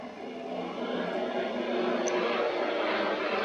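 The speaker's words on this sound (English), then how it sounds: "sorry if you can hear that helicopter in the background." A helicopter flying overhead, giving a steady, moderately loud droning rumble that swells slightly as it passes, with no voices.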